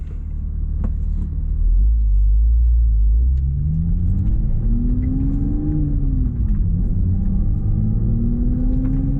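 A Toyota Supra fitted with a UniClutch Track clutch pulls away on the street, its engine rumbling low and then climbing steadily in pitch as it accelerates through a gear, heard from inside the car.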